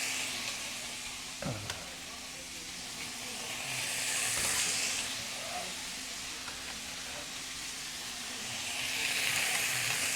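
Beef rouladen searing in a very hot pan on a stovetop, giving a steady sizzling hiss that runs through the whole stretch and swells twice, with a brief clatter near the start and no talking.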